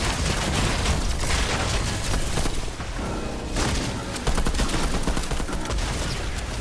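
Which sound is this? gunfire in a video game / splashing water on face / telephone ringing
gunfire in a video game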